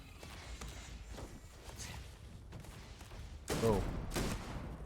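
Scattered gunfire in a video game, a couple of moderately loud bursts late on against a busy ambient backdrop, with brief voices heard.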